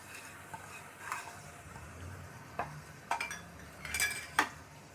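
Sliced onion goes into a pan of fried okra, giving faint scattered clinks and scrapes of a metal spoon against the pan over a low background sizzle, with no voices.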